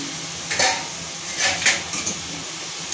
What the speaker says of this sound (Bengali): এরপর চাপা খুলছি।